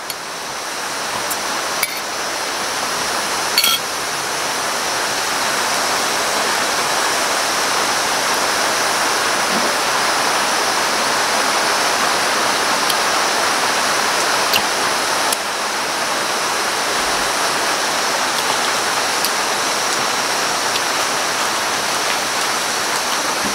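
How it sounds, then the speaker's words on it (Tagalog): Steady rain pours down outdoors as a continuous, even hiss that holds loud and unbroken throughout, with a few faint clicks and no voices. "lumipat na tayo kasi umulan na"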